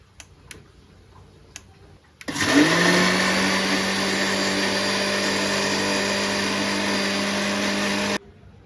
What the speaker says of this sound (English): So now I'm gonna give this a blend.